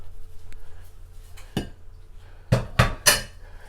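Seasoned oxtails and beef shanks get mixed in a bowl, a utensil clinking and clattering against the dish in a few sharp knocks, clustered near the end over a low background.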